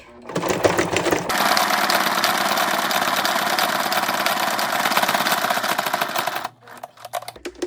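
A sewing machine stitches through a journal made from a paper shopping bag, running in one steady loud burst of about five seconds after a brief handling noise, then stopping abruptly with faint rustling afterward.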